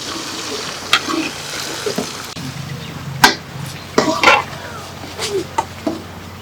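Beef brain masala being stirred while it fries in a pan, with an utensil scraping and clacking in scattered bursts over a steady low sizzle, close and moderately loud.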